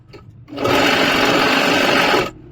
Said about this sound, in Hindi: यहाँ पे आप इस तरीके से इस पे एक सिलाई लगाओ।